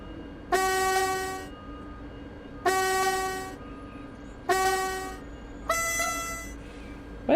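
Four long, loud horn blasts from an S-Bahn Vorarlberg commuter train in the simulator game Train Sim World 4, each sounding about a second and a half, spaced a couple of seconds apart over a quiet rail background.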